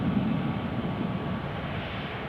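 At Newcastle airport a Boeing 737 airliner roars as a broad, steady engine rumble, close and continuous through the short span.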